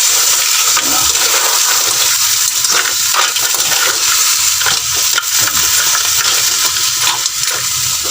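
Crab drops into a hot pan and sizzles loudly and continuously, with a steady hiss of frying and occasional stirring scrapes throughout.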